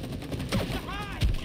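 Gunfire in the video game It Takes Two, with a couple of short punchy shots, the last one the loudest and lowest, over a steady busy game-sound bed, plus a brief rising electronic tone in between.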